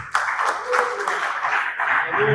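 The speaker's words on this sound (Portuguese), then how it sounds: "as palmas glorificam o nome do Senhor" A church congregation claps in praise after the worship team finishes, a continuous patter of hands under a voice speaking over it.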